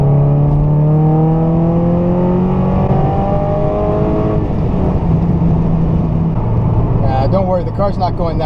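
A Subaru FRS fitted with a Phantom electric supercharger pulls hard, its engine note rising steadily through one gear, shifting, then climbing again, close and loud from inside the cabin.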